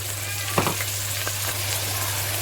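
Onion, tomatoes and green chilli fry in oil in a pan, a steady close sizzle with a couple of brief stirring scrapes over a low constant hum.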